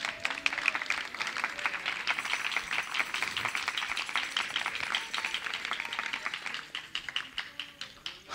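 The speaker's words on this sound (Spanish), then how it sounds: "A ver, denle un aplauso a Dios" A church congregation applauds during an evangelical sermon, a dense, steady patter of many hands clapping for the whole stretch, moderately loud and continuous, with no talking over it.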